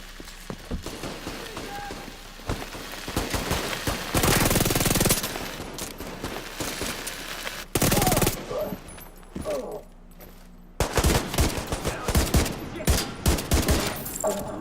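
Rapid bursts of automatic gunfire in the shooter game The Division 2 rattle repeatedly, loud and close, with brief pauses between volleys.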